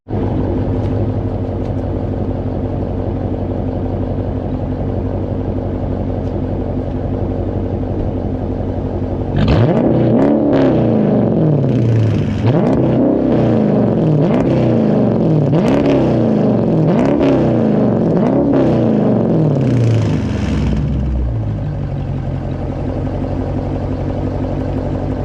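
A Chrysler 300 engine idles steadily, then revs hard several times in quick succession, rising and falling loudly before settling back to idle.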